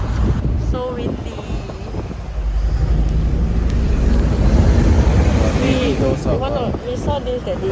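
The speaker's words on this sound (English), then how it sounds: "Yeah, it's so windy." Strong wind buffets the microphone outdoors in Korea, a loud continuous low rumble that swells midway, while people talk over it throughout.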